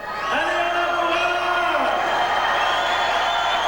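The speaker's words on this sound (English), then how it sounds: "And the crowd is very supportive here once again" Crowd at a strongman competition cheering and whooping loudly and continuously, with a voice shouting over the noise.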